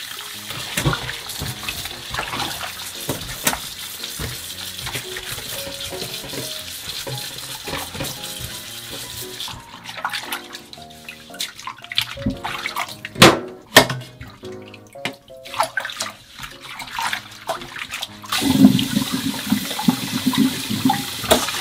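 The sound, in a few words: water running while washing radish for kimchi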